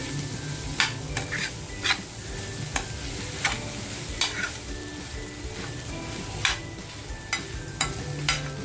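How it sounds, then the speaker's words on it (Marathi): Mutton tripe (vajdi) frying in a pan, a steady sizzle broken by repeated scraping knocks of a stirring spoon, close and alone. "ह्याच्यामध्ये बजरी आहे अशी छान फ्राय करून घ्यायची"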